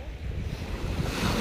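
Surf rolling onto a beach by clear blue water, a continuous low wash of waves that swells slightly toward the end, mixed with light wind buffeting the microphone and no voices.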